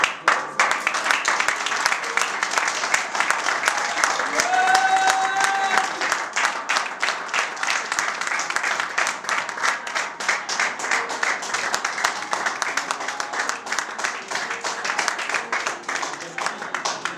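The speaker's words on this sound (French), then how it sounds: "j'aimerais que les hommes acclament fortement les femmes" A church congregation of men applauds and cheers for the women, with sustained dense clapping and a vocal swell of shouts partway through.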